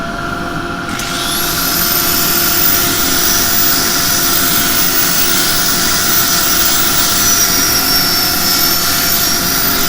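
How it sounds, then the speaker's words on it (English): A dust extractor spins up during woodturning, a loud, close, steady roaring whine that rises in the first two seconds and then holds constant with a faint high tone drifting above it. "Bit of dust extraction."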